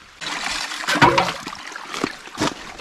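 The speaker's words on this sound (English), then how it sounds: "That's the feed for the brook, the main brook." A brook flowing through a ledge-lined Vermont valley, a steady broadband rush of water with a few louder splashy surges, close and fairly loud, with no talking.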